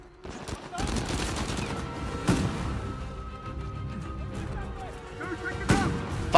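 Shotgun gunfire in the video game Uncharted 4, with several heavy blasts scattered through a dense, rumbling combat din.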